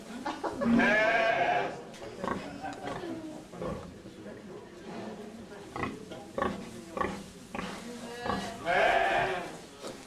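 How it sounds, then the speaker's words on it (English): A black sheep bleats loudly and close by, twice, with a long wavering cry at the start and again near the end, other voices talking between. "this black sheep here is a rare kind of sheep"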